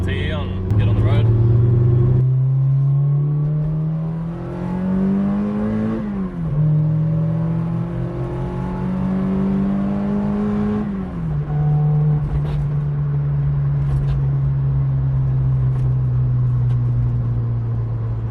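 Toyota AE86 driving on the road with engine note climbing through gears, rising revs then dropping at shifts, steady interior drone with a speaking voice over it.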